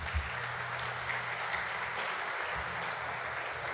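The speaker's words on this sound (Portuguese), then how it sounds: "Você pode aplaudir Jesus." A church congregation applauds for Jesus, a steady, dense wash of clapping from many hands that fills the room for the whole stretch with only slight swells.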